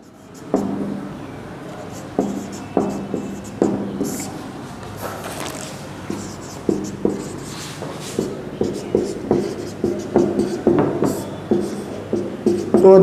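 A teacher writes on a classroom board during a chemistry lesson, with a series of short, distinct taps and strokes in an uneven rhythm, growing busier toward the end.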